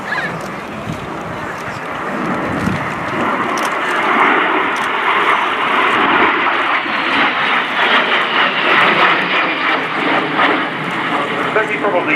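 Two ex-Swiss Air Force de Havilland Vampire jets in RAF markings, a two-seat T-55 and a single-seat FB-6 fighter bomber, fly past at RIAT 2018 with a loud, sustained jet roar that swells and lingers, mixed with wind noise and talk over it.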